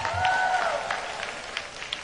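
A church congregation at a charismatic worship gathering applauds steadily, with the clapping blending into a continuous crowd wash while a voice sings or calls out over it.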